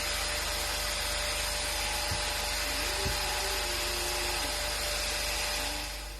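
A hot knife slicing slowly through a resin catapult part gives a steady, near electrical hum and hiss with a faint rising whine and a couple of brief clicks, no talking.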